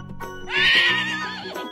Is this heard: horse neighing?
yes